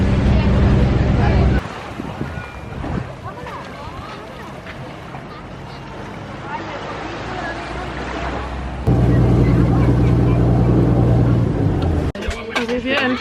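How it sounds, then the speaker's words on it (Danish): Boat ride on open water between the Maldives, Sri Lanka and Thailand, a steady engine drone mixed with wind and splashing water, louder in the final seconds, with a voice speaking at times. "jeg er kommet på en båd nu"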